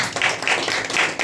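A congregation claps in a brief, dense burst of applause during a church sermon, steady and fairly close.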